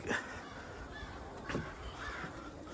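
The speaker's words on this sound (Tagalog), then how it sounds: "Ang lalakas ng mga ibon, mga uwak." Several crows caw in the distance in snowy cold weather, a few harsh calls spread out over a steady outdoor background hiss.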